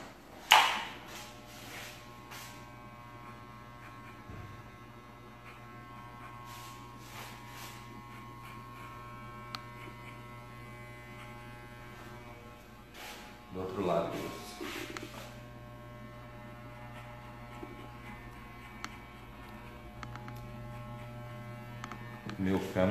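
Electric hair clipper running steadily at a barbershop during a traditional fade haircut, a low constant buzzing hum, interrupted briefly by handling knocks, with someone talking over it.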